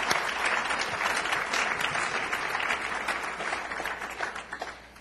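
Sustained applause from an audience at a library building dedication ceremony, dense steady clapping filling the whole stretch and tapering slightly near the end.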